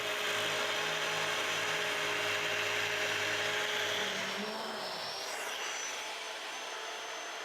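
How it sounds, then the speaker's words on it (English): A power sander whines and roars steadily against a wooden edge during a home repair job, loud and close, then drops to a lower, quieter hum as it winds down. "Well, let's sand it and maybe ease over the edge."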